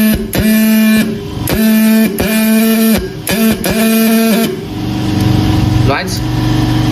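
A CY-202 engraving and marking machine runs with repeated steady tonal bursts broken by short gaps, shifting near the end to a lower continuous hum with a brief click, loud and close.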